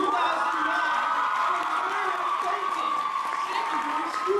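An audience applauds a graduating class at a secondary school ceremony, with sustained clapping, cheering and whoops from a large crowd that stays steady throughout.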